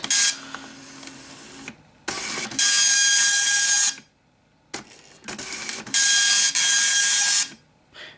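A Citizen GSX-230 color dot-matrix printer prints in two loud, buzzing bursts of about two seconds each, each preceded by mechanical clicks and carriage movement and followed by brief pauses, with no talking.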